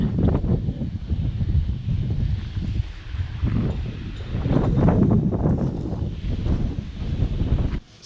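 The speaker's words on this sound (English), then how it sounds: "Hopefully you guys can hear it over the wind." Gusty outdoor wind batters the microphone with a low, rumbling, uneven whoosh that rises and falls in waves and then cuts off abruptly.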